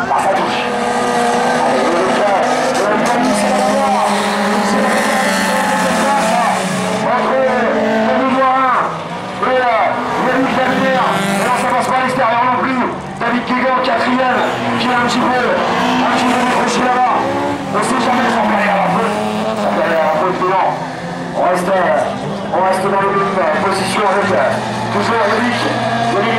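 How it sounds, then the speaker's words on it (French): Race cars in a 1600-class final at Saint-Jean roar continuously as they run and slide, and a commentator talks excitedly over the engine noise throughout. "Voilà, ça glisse pour Eric."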